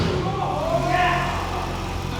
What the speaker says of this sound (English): we took the car out for a final test drive